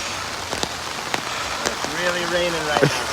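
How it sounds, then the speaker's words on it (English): Steady rain falls at night outdoors after a 50-mile ultramarathon, a broad hiss of drops pattering on surfaces with a few sharper taps, while a person speaks briefly near the end. "really raining right"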